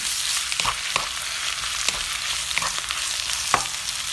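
Turkey meat for a curry sizzles loudly in a pan while being stirred, a constant close frying hiss with occasional scraping strokes and no talking.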